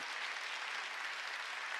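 A church congregation at a Sunday worship service breaks into sustained applause, a dense, even clapping that stays steady throughout with no talk over it.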